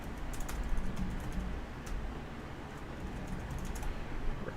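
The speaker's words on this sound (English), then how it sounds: "And the quiet keyboard." Quiet computer keyboard being typed on, a scattered series of soft clicks with a few sharper key taps over a low steady background, close and alone.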